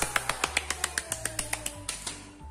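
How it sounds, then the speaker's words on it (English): Children at a Sunday school class clap their hands in a quick, steady run of about a dozen sharp claps that slow and fade at the end, with no talking over them. "and many more claps!"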